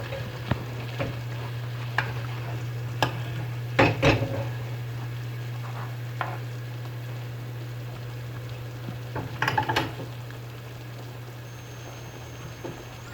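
Bananas cooking in caramel in a frying pan over a flame, with a steady low hum, soft sizzling and occasional clinks and scrapes of a utensil against the pan.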